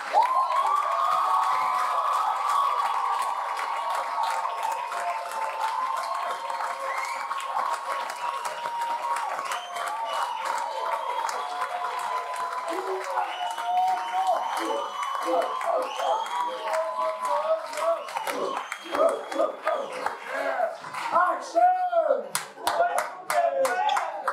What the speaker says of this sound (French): Mesdames et messieurs, applaudissons chaleureusement notre ministère.